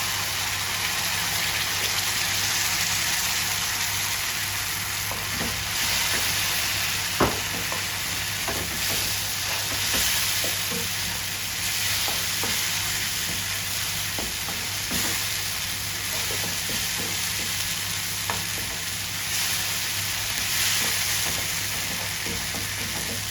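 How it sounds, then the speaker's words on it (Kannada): Ground masala frying in ghee for a crab ghee roast, a loud, steady sizzle with scattered scrapes and clicks of stirring throughout. "ಈಗ ಮಸಾಲೆ ಹಾಕ್ತಾ ಇದ್ದೇನೆ"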